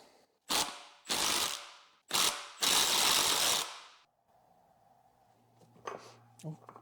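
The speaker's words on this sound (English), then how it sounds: "It's time to remove the rear flange nut." A ratchet wrench removes the rear flange nut on a Mercedes W140 V12 transmission during a teardown, with four loud, rapid clicking bursts up close followed by quieter workshop handling sounds.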